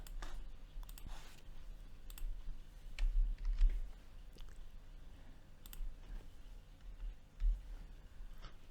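Soft mouse and keyboard clicks while setting up a website backup, a scattering of light taps and clicks at close range in a quiet room.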